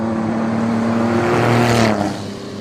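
Race car engine in limp mode on a hillclimb course, droning at a steady strained pitch and rising slightly before abruptly dropping off as it passes.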